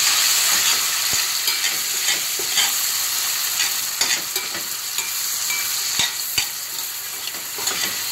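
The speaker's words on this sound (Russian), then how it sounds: "Пока грибы обжариваются" Mushrooms fry in melted butter in a pan, producing a bright, continuous hissing sizzle with scattered sharp pops and crackles, close up and with no talking.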